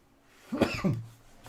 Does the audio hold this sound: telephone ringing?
no